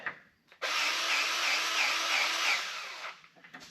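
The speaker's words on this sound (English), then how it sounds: "Give her a little shot of grease." A grease gun shoots grease into a cotter-pinned pin on an offroad wrecker, making a steady, fairly loud hissing whir that starts abruptly, runs about two and a half seconds and then cuts off, with faint clicks before and after.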